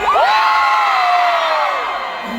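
Concert crowd at a show in Makassar shouting and cheering loudly, a dense sustained roar with rising whoops that fades slightly toward the end.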